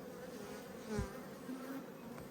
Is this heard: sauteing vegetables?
no